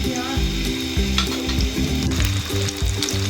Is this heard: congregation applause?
no